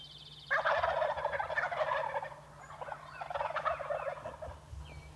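Wild turkeys gobbling in the morning woods. Two long, loud, overlapping rattling gobbles follow each other closely, nearby and clear over a low steady background hum.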